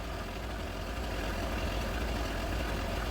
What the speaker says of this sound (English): So we have started the engine. Engine is running.